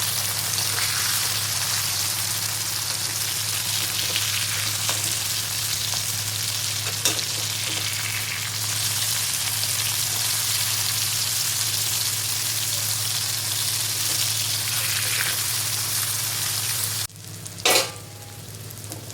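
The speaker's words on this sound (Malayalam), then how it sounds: "നമുക്ക് നമ്മുടെ ചിക്കൻ വറുത്ത് കൊടുക്കാം." Chicken pieces frying in hot oil for a biryani make a loud, steady sizzle that runs nearly unbroken, with a short clatter of utensils near the end.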